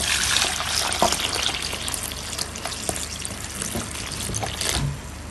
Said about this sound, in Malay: Okey, tuang air nasi